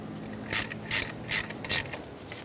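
A ratchet tightens the bolt on a new idler pulley of a 1999-2007 Ford F-350 with the 7.3L Powerstroke diesel, giving four evenly spaced, close, sharp clicking bursts with quiet gaps between them.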